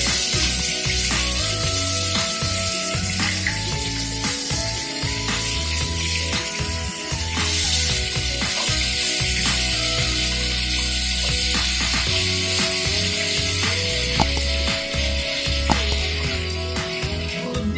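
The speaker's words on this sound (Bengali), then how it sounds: "এবার মাছের মাথাটাকে ভালো করে ভেজে নিয়ে ভাজলেই আস্তে আস্তে ছেড়ে যাবে" Fish head frying in oil in a pan, a steady crackling sizzle layered over a low hum and scattered pops and clicks, with no talk.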